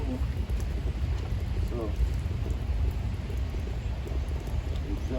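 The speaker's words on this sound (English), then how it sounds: "So do you guys see the rain? See it's raining?" Steady rain falls outdoors during a Toyota Sienna radiator replacement, a constant dense patter on surfaces, with someone speaking briefly over it.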